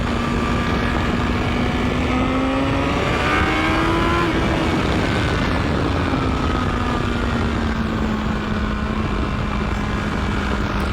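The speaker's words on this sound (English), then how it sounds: "Let's amp it up a little bit. Let's see if we got dry grip enough for a little power wheelie." A BMW S1000XR motorcycle accelerates hard for a power wheelie, its engine note climbing steeply through the gears in a loud, close, continuous roar with wind noise.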